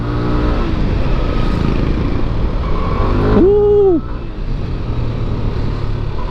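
A motorcycle engine roars at full throttle climbing a mossy uphill road, a loud steady drone with a brief rising whine before easing off; a rider shouts and talks over it.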